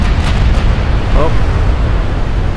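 Warship turret flash fire explosion in the naval battle game Ultimate Admirals: Dreadnoughts, a loud sustained roaring rumble with a couple of sharper early bursts, under a faint voice.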